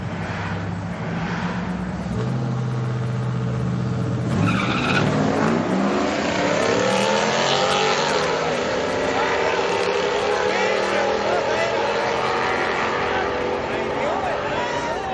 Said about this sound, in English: So he's doing a burnout in the staging lanes.